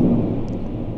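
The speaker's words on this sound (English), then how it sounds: "hear thunder crashes and rain in the background" An Allen GeniSys organ's synthesized thunder-and-rain effect, sounded from the pedals, gives a loud, broad rumble with hissing rain texture that eases slightly after an opening swell.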